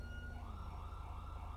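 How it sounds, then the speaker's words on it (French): A police siren in the GTA V video game wails steadily, with a continuous tone under a low rumble of traffic, fairly faint and without any voices. "J'entends une sirène."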